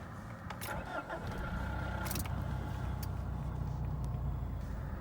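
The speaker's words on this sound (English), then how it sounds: "I'm gonna turn the engine on" A car showing an engine warning light cranks and starts, then settles into a steady, even idle with a low hum that carries on to the end.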